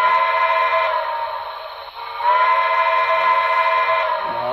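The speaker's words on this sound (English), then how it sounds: "All right, here's the whistle." A model steam locomotive sounds its whistle as a sustained, steady multi-tone blast, loud and near. The tone dips briefly partway through, then returns at full strength and continues with no talking.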